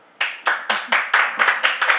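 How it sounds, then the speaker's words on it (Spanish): Audience applause welcoming a psychologist guest, about nine crisp, evenly spaced claps close by, brief and loud. "Un fuerte aplauso para ella."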